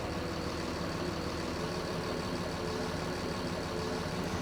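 A 1994 Challenger off-highway logging truck with a 14-liter Series 60 diesel of about 525 horsepower idles in a steady low rumble, close and unbroken, with no voices over it.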